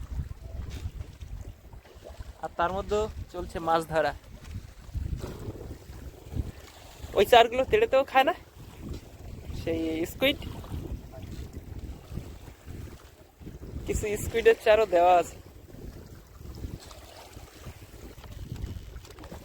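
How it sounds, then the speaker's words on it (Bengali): Strong wind buffets the microphone on a rocking fishing boat on a Sundarbans river, a steady rumbling roar with gusts, while someone talks over it throughout. "আজকের নদী কিন্তু অন্য দিনের মতো না ব্যাপক হাওয়া রয়েছে আর সেই সাথে দোলাও দিচ্ছে দুলছে পুরো"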